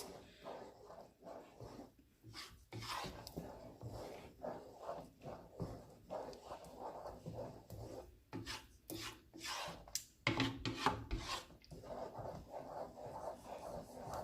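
Cinnamon being stirred into a pot of Jamaican cornmeal porridge with coconut gives a soft, faint, continuous rubbing and scraping, rising and falling in uneven strokes close by.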